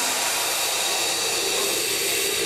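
Air release from a locomotive brake simulator at a training operating station, heard as a loud, steady hiss of rushing air that holds constant for its full short length, with no talk.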